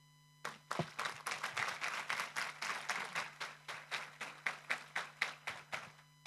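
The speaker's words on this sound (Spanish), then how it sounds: "¿Cuánto le dan un aplauso al Señor?" Congregation in a church clapping in a steady rhythm, about twenty sharp, evenly spaced claps sounding fairly faint and distant over a low steady hum, with no voices.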